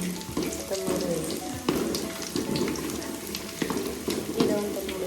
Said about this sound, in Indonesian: Ini aku lagi numis bawang merah sama daun temurui